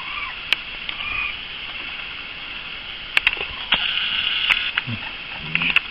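Baby raccoons make small chirping, squeaky noises in short scattered bursts over a faint background hiss. The sounds are quiet and close, with brief clicks in between.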